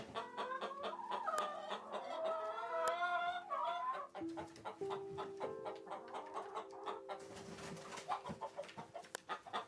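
Hens in a chicken coop in a video game, clucking and squawking close up in overlapping calls, with tonal cackles early on and a busier scratchy stretch near the end.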